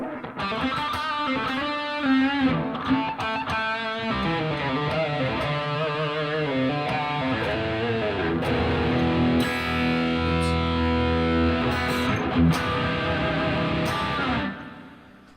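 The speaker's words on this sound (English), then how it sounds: "And of course, we put a little distortion on." Heavily distorted electric guitar plays continuously and loudly, chords and riffs ringing with a thick, saturated tone before stopping abruptly near the end.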